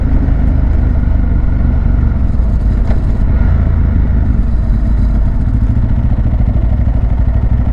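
A Ducati Hyperstrada motorcycle engine while riding, a loud, close, steady throbbing drone mixed with wind rush and no talking.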